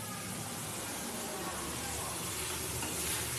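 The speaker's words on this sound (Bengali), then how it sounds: "এবার শুধু ফোড়ন দেওয়ার পালা।" Tempering spices hit hot oil for a lentil dal cooked with leafy greens, giving a steady, fairly loud broadband sizzle and hiss that runs without a break through the whole moment.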